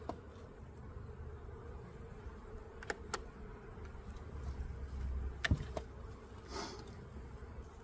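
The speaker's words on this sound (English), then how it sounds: "There are so many bees" A dense swarm of honeybees buzzes as a steady low drone around an opened hive in early spring, with a few bees passing close and brief clicks now and then.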